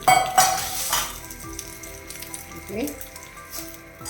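A hot tempering is poured into yogurt-based tomato pachadi, giving a sharp burst of sizzling and spattering up close, alongside clinks of utensils against the pan and a voice speaking faintly in the background.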